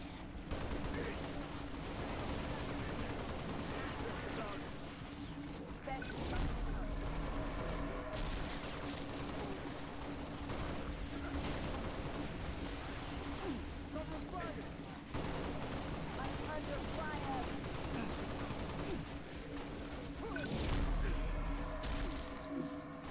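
Gunfire and explosions from a Halo Master Chief Collection battle against Banshees, played on a Steam Deck OLED, with steady rattling shots and two heavy booming blasts over constant game ambience, while voices talk throughout.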